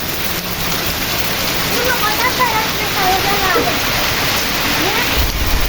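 Heavy rain with strong wind in the Pernambuco backcountry, a loud, steady dense roar of downpour hitting surfaces throughout, with faint voices underneath.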